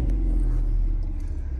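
A 2018 Chevrolet Camaro engine idles with a steady, deep low rumble, close and even throughout, with no voices over it.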